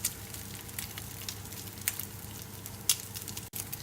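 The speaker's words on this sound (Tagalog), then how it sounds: "maglalagay lang po ako ng konting oil at igigisa na po natin ang ating mga sangkap" Pork and other ingredients sautéing in a little oil in a pan for Filipino ginisang sitaw, a steady soft sizzle with occasional sharper crackles and pops.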